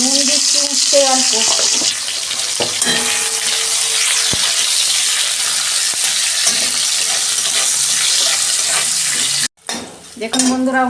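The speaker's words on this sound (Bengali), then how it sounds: "উচ্ছেগুলো একটু লাল করেই ভাজতে হবে, নাহলে তিতো লাগবে।" Salted bitter gourd fries in oil with a continuous loud sizzle and scattered spatula scrapes, a brief dropout near the end followed by a short burst of voice.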